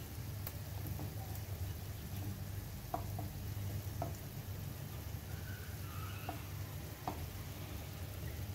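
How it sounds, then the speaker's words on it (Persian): Pan-fried kebab sizzling gently over low heat, a quiet steady crackle with scattered small pops and spits, heard alone without talk. "یه طرفش که سرخ شد، طرف دیگرم سرخ میکنیم تا کامل"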